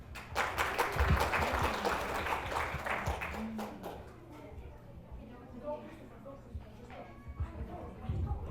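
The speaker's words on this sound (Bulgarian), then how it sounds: "Аплодисменти!" Audience applause at a school concert, close clapping that swells briefly and then thins into scattered claps and shuffling, with voices talking underneath.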